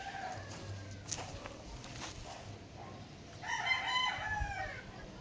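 A rooster crows fairly close by, a strained, wavering call near the end, with some scattered clucking and rustling before it over a steady low background.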